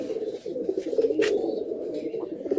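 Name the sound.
pigeon being released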